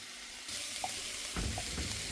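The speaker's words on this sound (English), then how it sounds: "I just put a little bit more water in, and that's dissolving." Water is poured into a hot curry pan, giving a soft hiss and splash over a steady sizzle, fairly quiet and with no talking.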